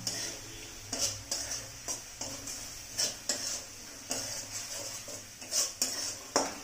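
A spoon scrapes and clinks against a metal pot in a steady stirring rhythm as spices for mushroom curry are fried, with soft sizzling underneath.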